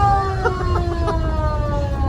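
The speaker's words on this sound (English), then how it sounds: "Terry is going to turn the siren on" Fire truck siren sounded through the horn while driving, a steady wailing tone over the low road rumble of the moving truck, loud and continuous.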